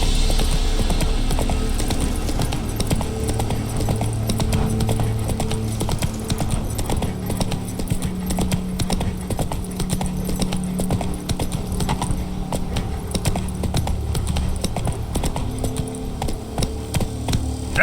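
Horse galloping in The Witcher 3 video game, with a fast, continuous clip-clop of hooves held at a steady pace throughout and no speech.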